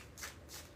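Tarot cards shuffled by hand in two quick riffling bursts, soft and close, with a low steady hum underneath and no talking.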